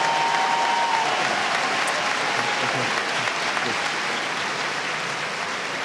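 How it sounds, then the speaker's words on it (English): A large audience at a spring afternoon graduation ceremony applauds the baccalaureate graduates, a steady, dense wash of clapping that holds evenly for several seconds with no voices over it. "let's have a round of applause for our baccalaureate graduates"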